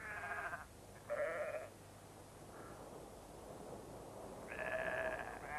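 Soay sheep on St Kilda give several loud, wavering bleats, a pair near the start and another near the end, over constant wind and surf-like noise.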